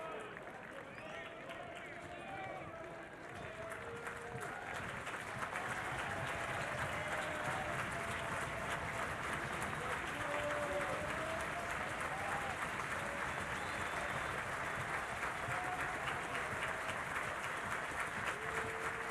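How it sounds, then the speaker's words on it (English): A baseball crowd at a Georgia Tech vs Oklahoma game applauds and cheers in a sustained wash of clapping, with a broadcaster talking over the distant stadium noise. "He's brought some life to this crowd as he gets ahead of Johnson 0-2."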